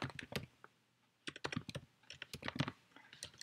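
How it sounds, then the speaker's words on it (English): Someone types on a computer keyboard close up, with quick clusters of sharp clacks and short pauses between bursts. "I guess you can see how great my typing is tonight."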